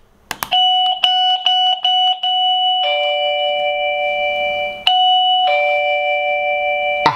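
An electronic door chime sounds, first in quick short beeps, then in longer sustained ding-dong tones, loud and close.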